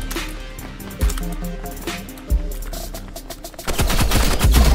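Sniper rifle fire in the Roblox game Rivals: two loud, sharp single shots about a second apart, then a denser burst of rapid gunfire toward the end, all over steady in-game sound.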